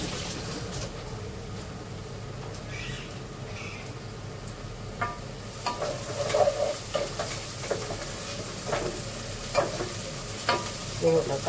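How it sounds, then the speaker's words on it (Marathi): Onion fries in a pan for a spicy mutton curry, giving a steady sizzle. Occasional utensil stirs and scrapes grow more frequent in the second half. "तोपर्यंत एकीकडे कांदा शिजतो."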